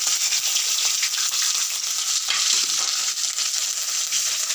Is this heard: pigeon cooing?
no